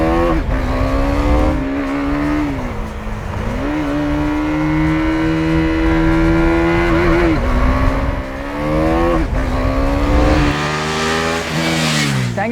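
A 2017 KTM Duke 390 single-cylinder motorcycle on a test ride, its engine loud and close, climbing through revs, shifting gears and dropping back again in repeated pulls, with wind rushing past and no talk.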